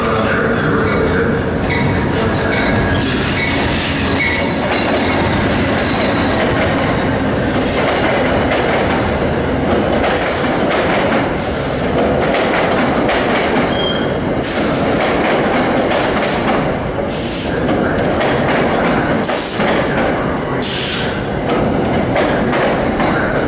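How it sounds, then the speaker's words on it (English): An NJ Transit diesel passenger train led by a former Amtrak Genesis locomotive passes close by in North Jersey, a loud, sustained roar with rhythmic clickety-clack of wheels over rail joints and intermittent wheel squeal throughout. "this NJ Transit train with a former Amtrak Genesis engine on the point"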